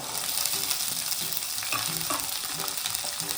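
Chickpeas and green peas with curry leaves fry in a pan with a dense, steady sizzle, while a spoon stirs and scrapes them in short repeated strokes close by; no voices.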